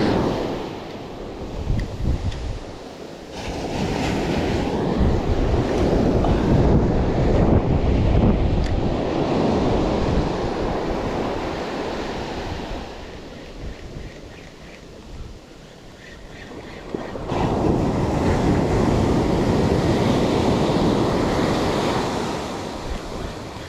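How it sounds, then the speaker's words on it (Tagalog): Ocean waves break on a shore in surges, each a broad loud wash that builds and fades over several seconds, with wind buffeting the microphone throughout and no talk. "Ito hindi masyadong malakas ang alon."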